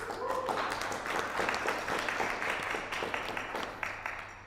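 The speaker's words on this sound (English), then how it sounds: "So a round of applause for all the sponsors, please." A room of meetup attendees claps for the event sponsors, a fairly dense round of applause that holds steady and then tapers slightly toward the end.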